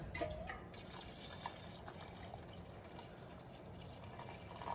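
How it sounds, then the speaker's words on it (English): Water trickles and drips steadily into a cooking pot for a potato, chickpea and squash curry, a soft continuous pour with faint splashes, fairly quiet and without talk. "Gonna add some water."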